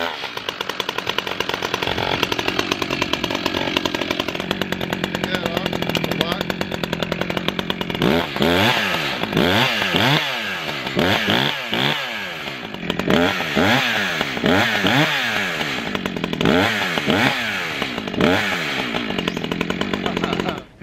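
An Echo CS-620PW gasoline chainsaw, brand new and on its first run, sputters and starts, then runs loudly and close, its engine revving up and down repeatedly in rising and falling bursts.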